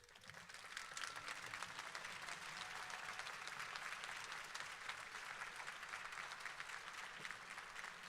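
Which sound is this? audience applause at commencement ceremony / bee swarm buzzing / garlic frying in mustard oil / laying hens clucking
audience applause at commencement ceremony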